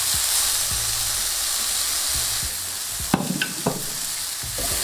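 Chicken burger patty frying in a pan, a steady close sizzle and hiss with a few scraping clicks and knocks of a utensil toward the end.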